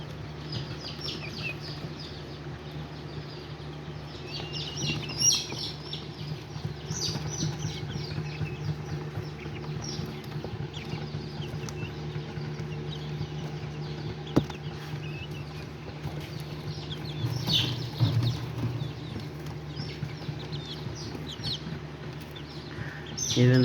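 Azteca and Serama chickens and a small pinto rooster make soft, scattered clucks and calls at moderate distance over a steady low background hum, with a few louder bursts.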